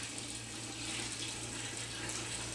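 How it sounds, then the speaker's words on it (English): Sparge water pouring into a brewing mash on a brew day, a steady close rush of flowing water with a low hum beneath it. "Half of my sparge water has now been added, and I'll let that drain down."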